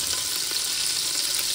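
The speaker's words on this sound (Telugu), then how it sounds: "ఇప్పుడైతే ఫస్ట్ మనం 1 టేబుల్ స్పూన్ ఆయిల్ ఇందులోకి ఫస్ట్ ఎర్రగడ్డలు వేసుకోవాలి." Onions frying in a tablespoon of oil, a steady dense sizzle with fine crackling that holds level and close throughout, with no voices over it.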